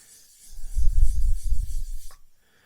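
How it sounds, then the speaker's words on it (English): Short burst of scratchy rubbing as a painted surface is sanded by hand for about two seconds, close up, with no voices. "it's actually holding up quite well to the sanding"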